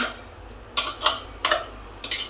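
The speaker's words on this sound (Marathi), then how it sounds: "पुन्हा एकदा मिक्स करून घेऊया" Spinach and chana dal batter is stirred again in a bowl, four evenly spaced scraping strokes with light clinks, close and clear, with no voices.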